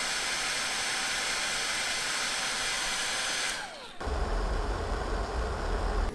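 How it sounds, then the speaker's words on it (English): A hair dryer runs on an EcoFlow R600 portable battery generator, giving a loud, steady rushing whoosh of airflow that drops briefly at a setting change, then resumes with a deeper fan rumble. "Let's do the hairdryer."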